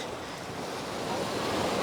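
Soft, steady wash of gentle surf close by on a white sand beach in Bali, small waves lapping continuously with a light breeze, no voices.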